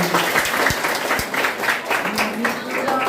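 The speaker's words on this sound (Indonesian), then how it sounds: "Mantap, tepuk tangan silakan" Junior high students applaud at a school outreach event, a loud, continuous crowd clapping with a few sharper claps standing out and some voices mixed in.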